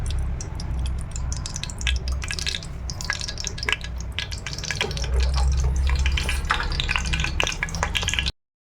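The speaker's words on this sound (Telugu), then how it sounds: "ఇదిగో ఇందులో ఆయిల్ వేసుకుంటున్నా." Cooking oil poured into a pan for carrot upma, a continuous bright splashing, trickling flow with faint clinks, close and fairly loud, building slightly in the second half before stopping abruptly.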